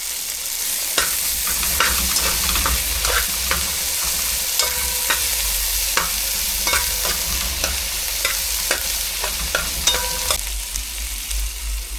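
Okra is stirred into a pot of simmering callaloo and crab stew over an outdoor fire, steady bubbling and sizzling under repeated scraping taps of a spoon against the pot.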